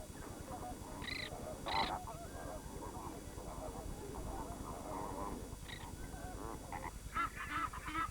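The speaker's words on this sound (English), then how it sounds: "Egyptian geese are common here." Egyptian geese at Nakuru in Kenya give harsh, repeated honking calls in scattered bursts, moderately distant over a low, rumbling background.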